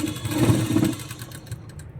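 A sewing machine runs a straight top-stitch along the seam of a Rajasthani kanchli blouse. It gives a close, steady mechanical whir that fades toward the end, with no talk over it.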